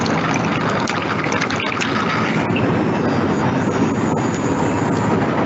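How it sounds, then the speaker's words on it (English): A small motor-driven water pump, part of a school coding project, pushes water along in a continuous, close, gushing and splashing flow that stays steady throughout with no talking. "as you can see the water is flowing."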